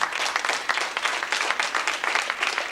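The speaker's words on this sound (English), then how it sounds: "You deserve a round of applause." An audience claps for longtime residents of eighty years or more at a Highland Park, New Jersey centennial celebration, with brisk, fairly close clapping that stays steady and unbroken across the moment.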